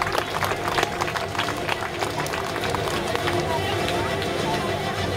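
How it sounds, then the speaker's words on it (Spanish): An outdoor crowd at a bird show claps for Juana, a fish eagle, the sharp, uneven handclaps sitting over a steady murmur of voices and background bustle. "Big aplauso para Juana."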